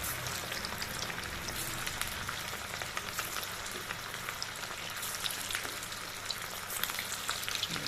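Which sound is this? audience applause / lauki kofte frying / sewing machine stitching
lauki kofte frying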